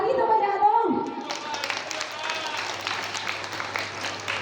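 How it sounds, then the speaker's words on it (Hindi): At a Krishna Janmashtami cultural fest, a voice speaks briefly before a crowd breaks into sustained applause, a dense, even patter of clapping that continues to the end. "ताली तो बजा दो।"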